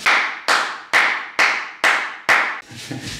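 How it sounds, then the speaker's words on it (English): Six sharp hand claps ring out through a vocal booth window at an even pace of about two per second, each fairly loud with a quick decay, followed by a faint low rumble. "I'm now going to clap for Leonard."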